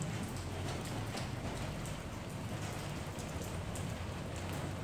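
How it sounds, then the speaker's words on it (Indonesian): Steady rain falls without a break, a dense even hiss of drops striking surfaces, close and constant, with no voices. "Allah menurunkan hujan"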